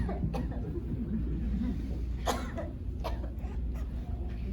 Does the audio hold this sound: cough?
yes